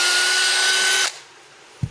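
A power drill boring a hole for an RC car controller phone mount, a loud steady whine that cuts off abruptly, then near silence and a brief knock.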